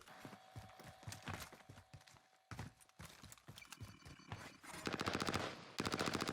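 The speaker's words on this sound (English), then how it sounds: "we hear gunshots over to the north-hand side right now" Bursts of rapid gunfire crackle in several volleys, some fast automatic strings, with short gaps between, in the shooter game Warzone.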